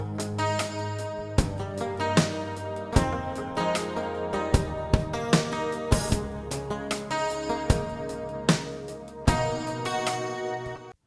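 Layered 1980s-style guitar sounds are triggered on an Akai MPC, with sustained chords punctuated by sharp plucked hits and crashes in a moderately loud pop-rock pattern, with no talking.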